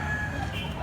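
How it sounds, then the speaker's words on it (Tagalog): A white leg rooster at a farm in Consolacion, Cebu, crowing or clucking loudly and close by in one brief, continuous burst. "White leg ang manok ni tatay oh."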